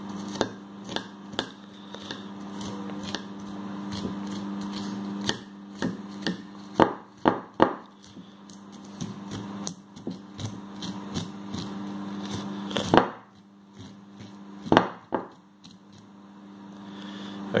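A kitchen knife cuts along a sweetcorn cob, giving scattered sharp cracking and scraping strokes over a steady low background hum, close and fairly loud, with irregular clusters of harder snaps.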